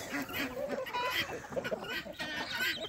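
Chickens cluck and call repeatedly among free-range poultry including ducks, turkeys, guineas and quail, a busy overlapping chorus of bird sounds close by, with some talk mixed in.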